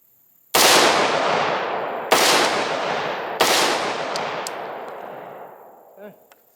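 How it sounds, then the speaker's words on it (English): Three loud, sharp gunshots from a PSA AR-15 rifle, each with a long echoing decay, spaced about a second and a half apart, followed by faint clinks. "I'm just going to do 3 rounds, let it cycle, let you guys kind of see how everything works on it."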